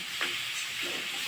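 Broiler chicken legs hitting a hot pot of oil and spices with a sudden hissing sizzle that rises quickly and settles into a steady, close fry with no talking.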